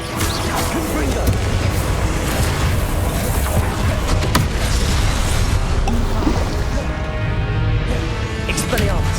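Confringo blasting spell explosions in Hogwarts Legacy, dense roaring bursts and crashing impacts filling the whole stretch with continuous loud combat noise, a voice speaking under it.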